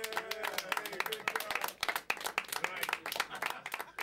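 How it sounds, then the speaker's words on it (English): An audience at a local talent-show performance gives fairly faint, scattered applause with sharp individual claps, mixed with voices and background sound. "give yourself a round of applause"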